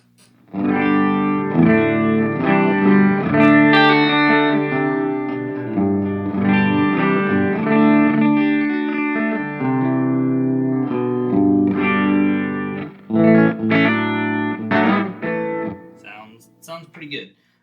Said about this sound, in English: Now let's throw the doubler on.